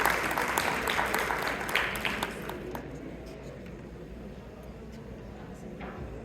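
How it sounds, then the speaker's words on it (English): Guests at a charity foundation's annual fundraising dinner clap loudly at first, then the applause thins and fades out over a few seconds. "Can we give them a round of applause?"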